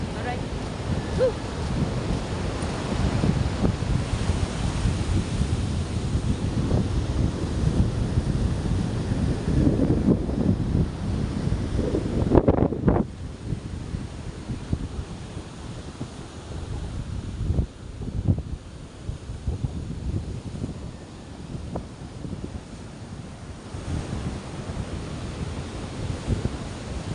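Strong wind at the seashore buffeting the microphone in loud, continuous gusts, with a low roar that eases slightly toward the end.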